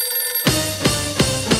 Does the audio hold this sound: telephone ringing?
yes